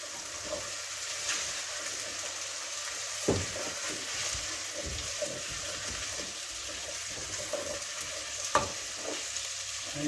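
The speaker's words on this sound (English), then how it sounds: "Just mix those around a little bit so that they can blend together and so that the potatoes and the carrots get a little coating of oil" Potatoes and carrots are stirred in oil in a pot over low heat, giving soft, quiet scraping and faint sizzle with a few sharper clinks of the utensil against the pot.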